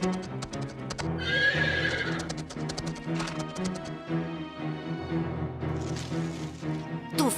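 Horses gallop with loud, steady clip-clop hoofbeats while one neighs and whinnies sharply, the herd close and dense over a busy backdrop, with no voices.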